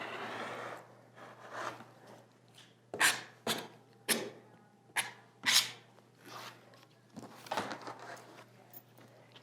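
Trimming the fabric edges of a rick rack placemat with scissors: a string of crisp close snips and rasping cuts in an uneven rhythm, with no voices.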